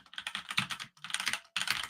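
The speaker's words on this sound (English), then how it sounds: "So down here, you can start typing." Rapid continuous typing on a computer keyboard, close and crisp, with dense clicking clusters broken by a brief pause before resuming.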